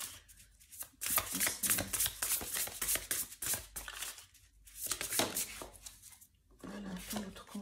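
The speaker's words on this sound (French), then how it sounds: "Je vais tirer encore une carte pour vous." Tarot cards shuffled by hand and drawn from the deck, a run of crisp, papery riffling bursts with short quiet gaps between them, close and fairly soft, with no voices.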